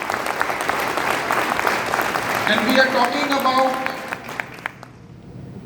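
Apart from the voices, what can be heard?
audience applause in a room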